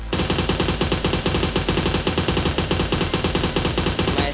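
Rapid automatic gunfire in the mobile shooter PUBG Mobile, fired while moving, a loud, steady stream of shots that continues without a break, with no talking.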